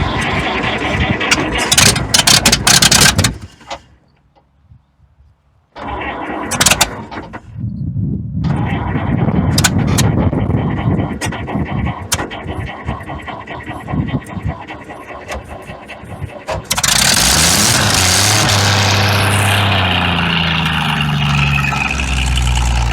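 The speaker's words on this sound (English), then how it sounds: "You want to see if it'll start off of what's in the bowl?" An old military truck abandoned for eight years, fuelled from the carburetor bowl, cranks briefly, falls quiet, then catches and runs with a steady, loud engine drone that swells toward the end, with people talking nearby.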